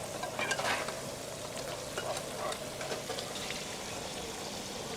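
Battered squid fries at a night market food stall in Sentosa, Johor, Malaysia, giving a steady close sizzle with occasional crackling bursts and no talking.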